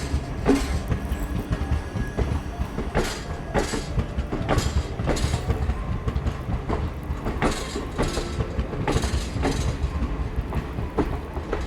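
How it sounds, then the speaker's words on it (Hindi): A train pulls out of Phalodi Junction railway station, steady wheel rumble and rhythmic clickety-clack beating beneath repeated sharp metallic knocks as the carriages roll along, loud and close throughout with no talk. "फाइनली अपना डिपार्चर हो गया फलोदी जंक्शन रेलवे स्टेशन से"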